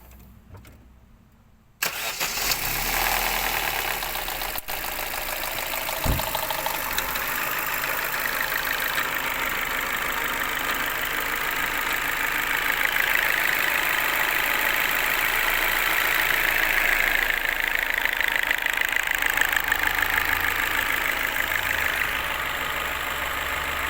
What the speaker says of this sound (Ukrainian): Запуск мотора.